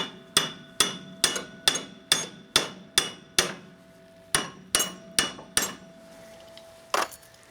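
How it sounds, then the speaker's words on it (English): Sharp metallic hammer-like taps on a tractor lift arm clamped in a vise, during a height-adjustment repair on an International 684. About a dozen evenly spaced ringing knocks, close and loud, with a brief pause before the final few strikes. "we've just been tapping it backwards and forwards with the vise as tight as we can go"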